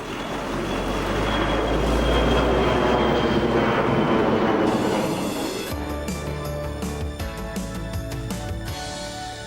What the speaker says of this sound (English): Other interruptions included aircraft flying into Lasham